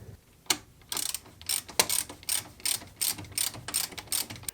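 A ratchet drives in the screw holding a brake hose bracket during a shock absorber and strut mount replacement, its quick metallic clicks coming close in a steady series of short bursts with brief gaps, with no one speaking.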